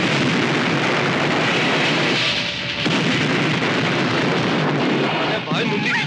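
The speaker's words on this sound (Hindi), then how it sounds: "ब्लास्ट!" A loud, sustained blast roars through a scene in a Hindi action thriller film, a dense wall of explosive noise filling the entire stretch with a brief dip midway.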